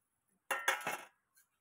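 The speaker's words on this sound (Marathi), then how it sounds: "बोंबील टाकून घेते आता हे." Bombil (Bombay duck) fish go into a metal cooking pot with a short clatter of clinking contact lasting about half a second, then a faint small clink follows.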